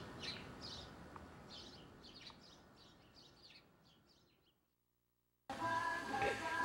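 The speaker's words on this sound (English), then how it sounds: "Listening to the birds" Birds chirp outdoors in a quiet rural setting, with repeated short calls over a steady low background, then silence, then a louder burst of broadband noise.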